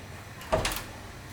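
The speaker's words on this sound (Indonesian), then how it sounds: "Bung Melek, cepat buka pintu, Bung." A door is opened nearby with a single short clunk and rustle midway through, surrounded by a quiet room.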